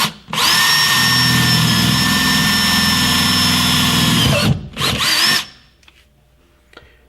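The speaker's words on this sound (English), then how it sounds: "it's a good idea to drill a hole right in the center of where you've made the square" A power drill whines loudly at steady speed for several seconds, drilling a bolt hole in a car during amplifier installation, stops, then gives a short second burst before quiet with faint clicks.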